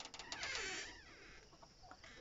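Soft clucking and chirpy chicken calls, close by, with a scratchy rustle and some background noise; no talking.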